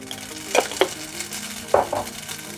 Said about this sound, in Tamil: அது கொஞ்சோண்டு எண்ணெய் ஊற்றிக்கலாம். கடுகு தாளிச்சிக்கிறேன்.